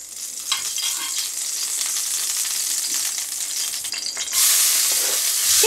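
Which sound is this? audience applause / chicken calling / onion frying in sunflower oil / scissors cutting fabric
onion frying in sunflower oil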